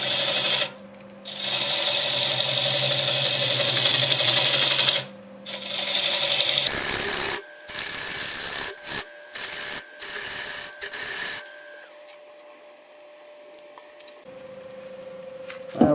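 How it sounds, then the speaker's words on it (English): A half inch bowl gouge cuts a Madrone natural edge bowl on a lathe, making loud, bright scraping and rasping in long passes broken by short pauses, over the steady tonal hum of the spinning lathe, close up. "Switch this down to a 1/2 inch bowl gouge now."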